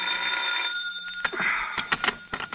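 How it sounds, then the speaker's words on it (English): An old-style telephone bell rings in a radio crime drama, a steady ringing burst at the start that cuts off, followed by brief knocks and clatter as the receiver is picked up. "My bad knee was aching worse than ever when the phone rang."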